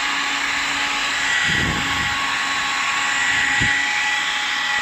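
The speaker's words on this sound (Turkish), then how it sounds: "saç kurutma makinesiyle bunu mümkün olduğunca kurutmaya çalışmak" A hair dryer drying a water-damaged bathroom sink shelf, blowing a steady loud whir throughout with brief low thumps mixed in, heard alone.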